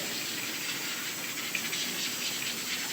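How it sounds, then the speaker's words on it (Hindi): A pressure cooker with black lentils cooks beside a pot of water heating for rice, giving a continuous soft hiss of steam at moderate distance. "तो यहाँ पे प्रेशर कुकर में लग रही है काली दाल और पानी गर्म हो रहा है उसका चावलों के लिए"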